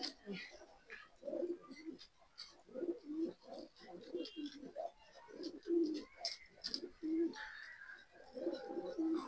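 Female pigeons in a home loft coo in repeated soft, throaty bursts, close and fairly quiet, with light fluttering and small chirps in between.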